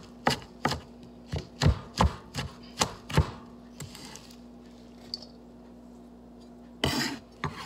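Knife chopping salad ingredients for a baked chicken breast salad, about eight sharp, close cuts in a steady rhythm over the first three seconds, then quiet with a few faint clicks and one last louder chop near the end.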